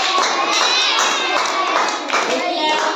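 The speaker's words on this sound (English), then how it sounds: "A clap" Hands clap during a children's action song. The claps are loud and come in a quick, fairly even rhythm, with a children's sing-along carrying underneath.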